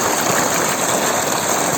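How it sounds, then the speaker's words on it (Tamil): Water from the water source of a coconut and banana farm pours and splashes in a steady, loud, continuous rush, heard close with no talking. "எப்படி தண்ணி வந்து விழுந்துன்னு பாருங்க."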